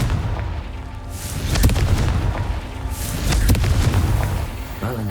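Confringo fire spell explosions in Hogwarts Legacy, two heavy booming blasts about two seconds apart over a rumbling low background, loud and close.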